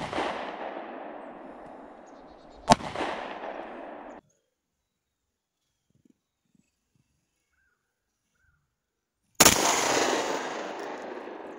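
Gunshots from a Rossi combination gun chambered in .410 and .22 LR, fired outdoors in cold weather: sharp, loud cracks with long rolling echoes, one shot early, a rumble fading out, then silence before another blast.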